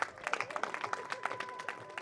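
A group clapping in quick, scattered bursts, moderately distant, with faint voices underneath.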